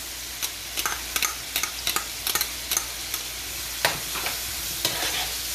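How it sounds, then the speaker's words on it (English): Portuguese pepper paste and parsley stirred in a frying pan for codfish in cream sauce, a spoon scraping in quick repeated strokes over a steady soft sizzle, close and clear with no talking. "Stir that around for a little while"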